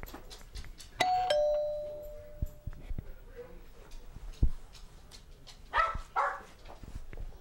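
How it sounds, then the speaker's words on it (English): A home doorbell chimes loudly near the start, with a dog barking and whimpering afterward and people talking quietly in the room. "That's the doorbell"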